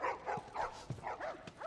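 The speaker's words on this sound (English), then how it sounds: "You got a healthy puppy." A puppy in The Last of Us gives several short, high yips and barks in quick succession, close and fairly quiet.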